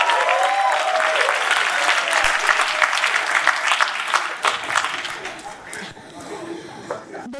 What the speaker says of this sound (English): once again, one round of applause for Shubhankar.